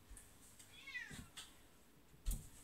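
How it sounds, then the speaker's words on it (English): A cat gives a single short, high, close meow amid quiet room sound with a few soft thumps and clicks, and no one talks. "Meow."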